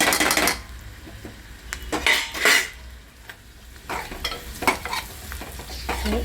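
Garam masala roasting in oil for an egg masala curry, stirred with a spoon that scrapes and clinks against the pan in several bursts over a steady low sizzle, close by with no voices.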